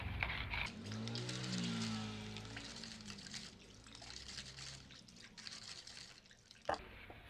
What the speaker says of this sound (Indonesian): untuk itu kita aduk airnya, jadi biar dia tercampur merata